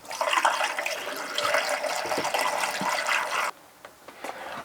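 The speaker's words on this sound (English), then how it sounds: "I always recommend using the excess antifreeze to put a little in each trap in your unit." RV antifreeze poured from a container into the shower drain trap of an Airstream Caravel travel trailer, a steady gurgling splash of liquid that stops suddenly, followed by faint knocks.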